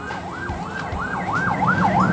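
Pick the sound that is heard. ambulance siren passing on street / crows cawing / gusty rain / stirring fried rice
ambulance siren passing on street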